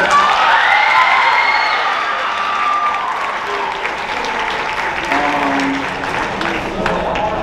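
Applause and cheering from an audience at a high school spring sports awards night carry on steadily, with scattered shouts and whoops over the clapping and voices mixed in.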